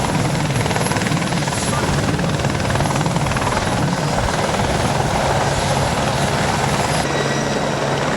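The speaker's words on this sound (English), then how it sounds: "The distinctive noise there of one of the support helicopters warming up on the landing pad there" A support helicopter warms up on a landing pad beside trees at the Isle of Man Manx Grand Prix, its steady loud rotor thrum and engine whine droning on without a break.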